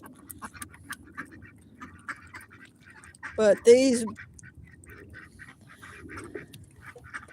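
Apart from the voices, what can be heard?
ducks quacking on a farm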